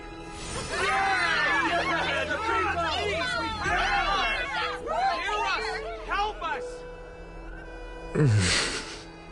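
Crowd chatter in a video game: many overlapping voices babbling and calling out together, a dense close hubbub that fades briefly before a louder single outburst near the end.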